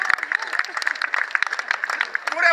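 Audience at a stand-up comedy set at the Positivus festival in Latvia claps in a dense, rapid patter, with a voice talking over it throughout.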